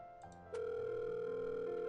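A telephone ringing tone plays while a call waits to connect. A steady, unbroken electronic tone rises in after a couple of faint blips and holds clear and fairly loud, with no talk.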